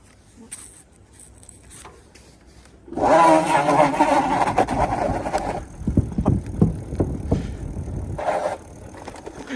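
A Bluevall K10 electric moped e-bike launches from a standstill, a sudden loud surge of motor whine and rolling noise after a quiet start, with wind and tire rumble continuing and some talk nearby.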